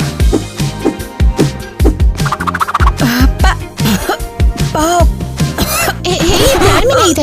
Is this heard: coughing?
yes